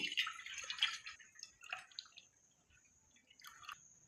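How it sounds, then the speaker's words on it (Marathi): Colostrum milk is poured through a kitchen strainer and trickles and drips faintly for a few seconds. The pouring is strongest at the start, then thins into sparse drips. "हे चिकदूध आहे ते पहिल्यांदा गाळणीने आपण घालून घेऊ"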